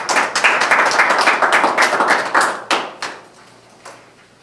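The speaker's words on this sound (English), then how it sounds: "I'd like us to give our department heads and our treasurer a round of applause" A room full of people at a city council meeting claps steadily for a few seconds, the applause thinning out and trailing off into a few scattered final claps.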